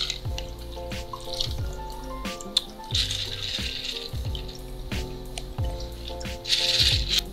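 A Sazerac cocktail, with lemon peel garnish on hand, is poured into a glass: close trickling and dripping liquid, with clinks and glassy splashes in uneven bursts.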